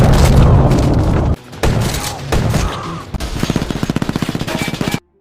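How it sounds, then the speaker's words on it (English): Gunfire in a film action scene: heavy booming shots, then a rapid, even burst of automatic fire, loud and close, ending abruptly in silence. "Phil shot them right away."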